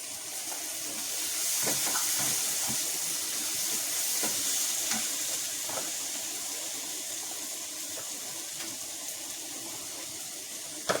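Onion and tomato sautéing in a pan for tomato chutney, a steady close sizzle running throughout with occasional faint scrapes of stirring.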